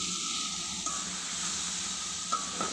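Cauliflower and potato sizzling in spiced masala in a pan for a rohu fish curry, a steady close frying hiss with occasional stirring scrapes and no talk.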